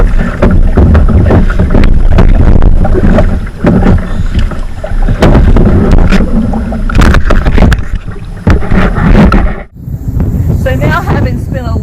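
Kayak on the water of the sound at Ocracoke, with continuous wind buffeting and paddle and water splashes, heavy rumble throughout, under talk from a person aboard.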